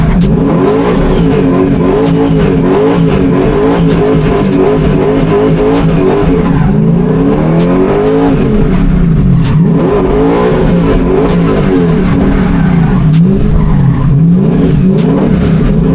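A race car being tested in PRO league running, its engine loud and close, revving hard in repeated rising and falling sweeps as gears change, continuous throughout.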